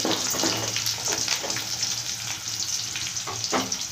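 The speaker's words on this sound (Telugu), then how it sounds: "కొద్దిగా కరేపాకు కొద్దిగా మగ్గనిద్దామండి" Curry leaves fry in oil with steady sizzling and crackling, close up, with faint scraping from stirring; no talking.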